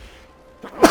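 A single sharp human sneeze bursts out close and loud at the very end, after a short quiet breath-like lead-in.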